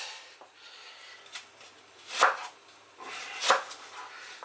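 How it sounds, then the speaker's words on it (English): Knife cutting an onion into strips on a board, a few spaced crisp chopping strokes, two louder than the rest, quiet between cuts, no talking. "I'm going to cut up my onion into strips about like that"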